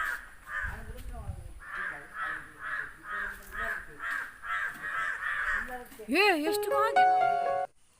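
Many crows gathered near a house caw over and over in a steady run of harsh, repeated calls, loud and close. Near the end a sharp sliding whistle-like tone cuts in briefly.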